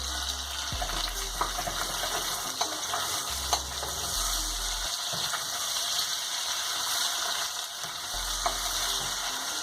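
Fish sizzles steadily in a hot pan while being stirred, a close, continuous frying hiss broken by scattered scraping and clicking from the stirring, with no voices.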